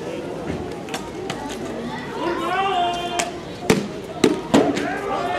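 Police training ammunition fired during a tactical unit demonstration at a 2015 Police Day event in Ostrava: a few sharp, loud bangs in the second half, heard over a continuous murmur of crowd and voices.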